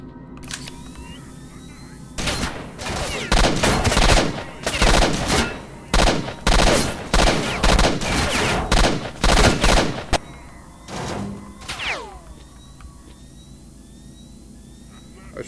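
An F2000 rifle with an integrated scope and grenade launcher fires in STALKER: Shadow of Chernobyl, letting off loud, sharp bursts of rapid shots over about eight seconds, then two more isolated bangs and a ringing fade.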